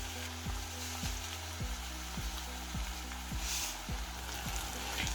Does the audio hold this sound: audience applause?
no